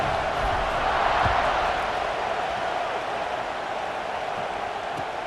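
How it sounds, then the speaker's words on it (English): A stadium crowd buzzes steadily in a college football video game, Oregon against Penn State, a dense, moderately loud hum of many voices holding at an even level. "this crowd is buzzing after that last score"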